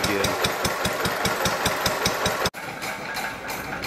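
Old stationary gas engine on a clogged float tank, idling with a steady, fast chugging exhaust beat that rises and falls slightly, close and loud, with the rhythm continuing after a brief dropout.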